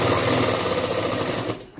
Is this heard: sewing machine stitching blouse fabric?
yes